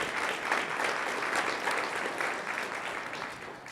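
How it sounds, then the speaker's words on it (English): An audience at an awards event for a supportive-housing organization breaks into a full round of applause, dense steady clapping from many hands that holds throughout and eases slightly at the end. "So a round of applause for that great news."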